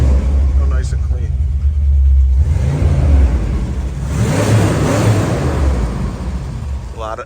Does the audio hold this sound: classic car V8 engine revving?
yes